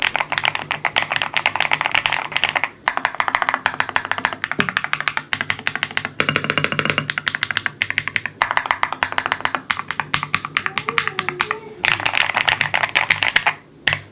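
Fast typing on a QwertyKeys x ATK Hex80 HE keyboard with an all-aluminum CNC case gives dense, crisp clacks in steady bursts and a few brief pauses, close and fairly loud, with no voices.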